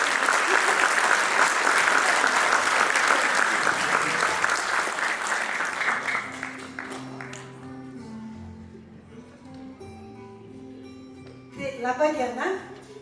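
Audience at an anniversary concert of a children's choir in Gargždai gives loud, sustained applause that fades after about six seconds, followed by quiet instrumental music and a brief burst of speech near the end.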